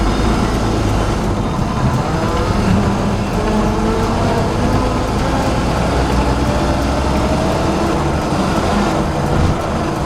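A 1923 Nash engine runs steadily as the 100-year-old car drives, its loud, continuous low rumble and mechanical clatter filling the cabin with no gaps and no talking.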